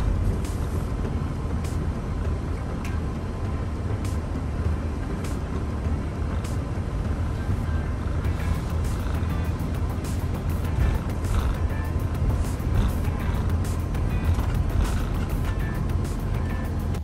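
A motorhome driving on the way to a ferry on Sylt, with a steady engine and road rumble heard from inside the cab, continuous and fairly loud with no talk.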